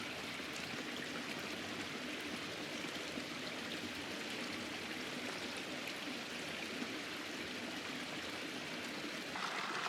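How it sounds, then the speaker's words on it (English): Sycamore Creek running along a trail on the Continental Divide, a steady broadband rush of flowing water heard close and continuous for the whole stretch, with no voices. "Made it down to Sycamore Creek."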